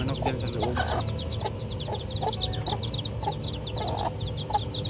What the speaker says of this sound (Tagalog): May manok sa loob, no?